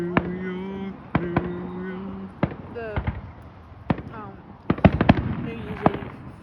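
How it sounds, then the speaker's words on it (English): Fireworks burst in sharp, separate bangs, some loud and some farther off, scattered over several seconds and sometimes coming in quick clusters, while faint voices talk underneath. "Fireworks"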